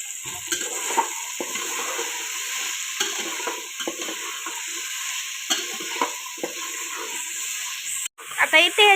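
Vegetables and peanuts sizzle and crackle steadily in hot oil in a Maharashtrian home kitchen while they are stirred, with brief louder scrapes of the spoon against the pan near the end.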